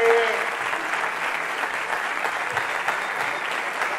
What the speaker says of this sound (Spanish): Reciban con un muy fuerte aplauso a mi amigo, el señor Nicolás de Trace.